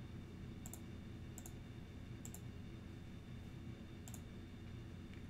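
A computer mouse clicks four times at uneven intervals, each a crisp, faint tick set against a steady low background hiss.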